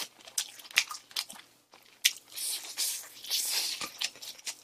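Crispy honey curry fried chicken being bitten and chewed, with repeated crunchy bites and crackles close to the mic, rising to denser crunching in the second half.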